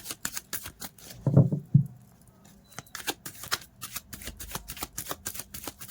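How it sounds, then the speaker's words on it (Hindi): Tarot cards shuffle in quick riffling bursts, a close, dry rapid patter that pauses briefly and then resumes in steady flicks. "तो गाइस, कार्ड को शफल कर लेते हैं।"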